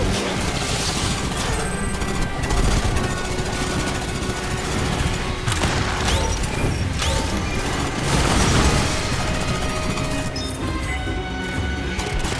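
A grenade blast amid combat in Aliens Fireteam Elite, with crashing, rattling impacts and booms that keep up through the stretch, swelling a couple of times, with no talk heard.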